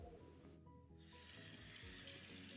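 Slightly warm tap water runs into a sink while hands are rinsed, a soft steady splashing that grows fuller after a brief pause, close and quiet.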